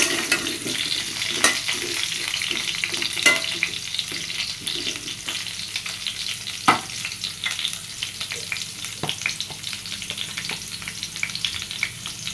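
Potatoes fry in hot oil in a pan with a continuous close sizzle, broken by occasional sharp clatters of a spatula stirring them.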